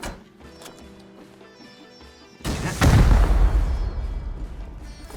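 Rockets in the video game Rust explode against a tower, a sudden loud, deep blast after a quieter stretch of game sounds. A rumbling roar follows and slowly fades.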